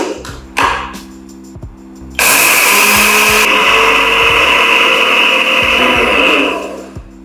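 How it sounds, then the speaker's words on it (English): A food processor blends washed rice: a few knocks and handling clatter, then a loud motor whine and grinding roar that holds steady for several seconds before winding down. "Take about a 1/4 cup of washed rice and blend them in with a food processor."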